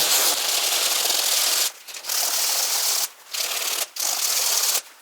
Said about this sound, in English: we'll take our 220 and we'll take a bigger area and start sanding that